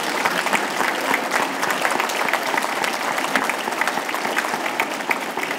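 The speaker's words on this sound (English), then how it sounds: "Let's clap out for your families." A crowd claps steadily at a public safety promotional ceremony, a dense, even wash of applause lasting over five seconds without pause.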